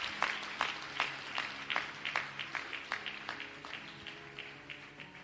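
A church congregation claps in a quick burst of hand claps that is loudest at the start and thins out over a few seconds, heard from a distance in a large room.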